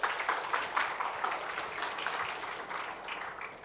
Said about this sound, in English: So let's give a round of applause for Rob.